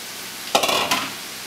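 Mushrooms stirred into a hot pan of cooking filling for stuffed mushrooms, giving a brief burst of sizzling and scraping around two short stirs, then quiet again.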